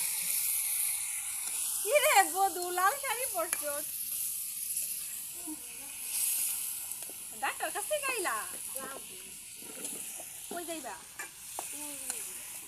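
Curry with green chillies sizzles softly in the pot after water is added, a faint steady hiss beneath intermittent talking.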